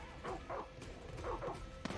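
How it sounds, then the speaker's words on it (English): Dogs in the Far Cry 6 video game bark in a few quick, faint bursts, distant and muffled, repeating twice in close pairs. "They got some dogs."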